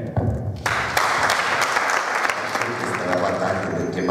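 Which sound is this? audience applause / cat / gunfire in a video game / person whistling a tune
audience applause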